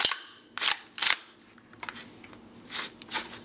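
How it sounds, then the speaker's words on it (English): Mechanical clacks and metallic snaps of an AR-15 rifle with an A2 front sight being cleared, its action worked in several sharp bursts, close and distinct with no talking. "Let's begin by clearing the rifle."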